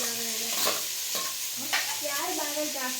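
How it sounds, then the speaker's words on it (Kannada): Chopped onions fry in a pan with a steady close sizzle and soft stirring scrapes, while faint tonal background sounds run underneath and no one speaks. "ಈರುಳ್ಳಿ ಫ್ರೈ ಮಾಡ್ತಾ ಇದ್ದಾರೆ"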